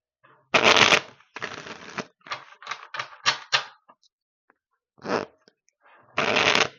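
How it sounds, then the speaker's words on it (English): Tarot cards being laid out on a table, a series of brisk papery slaps and shuffling flicks in uneven bursts, with quiet gaps between them and no talking. "let me put some more cards out"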